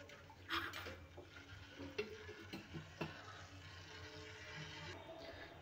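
Oil and water being stirred in a cooking pot before it is brought to a boil, with scattered metallic clinks and scraping strokes of a ladle against the pot, moderately quiet, no talking.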